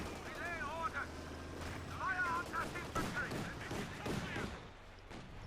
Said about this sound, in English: tearing them apart with this autocannon and coaxial machine gun